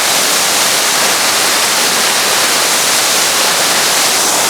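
A Yorkshire waterfall roars as a dense, loud, unbroken rush of falling water heard from very close, steady throughout with no other sounds or voices.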